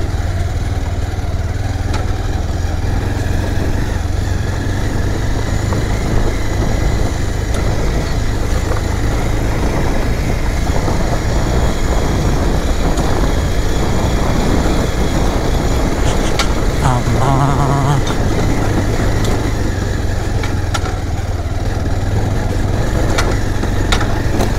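A motorcycle engine runs loud and close throughout on a rough off-road dirt track, a continuous droning rumble with steady thudding texture and no pause.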